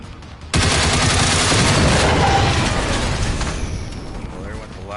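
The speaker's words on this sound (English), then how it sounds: "there went the last of my AK rounds" Sustained burst of AK rifle fire in the game Generation Zero: loud, dense automatic shots that start abruptly after a quiet half-second, then trail off into a fading echo.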